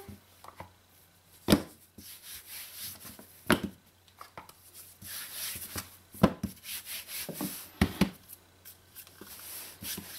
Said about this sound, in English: you're going to roll out your dough to the same size you rolled it out before